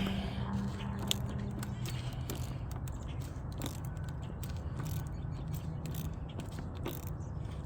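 A Leatherman ratchet fitted with a universal socket turning a bolt: a rapid series of close, small metallic clicks and ratcheting ticks over a steady low background, with no voice present.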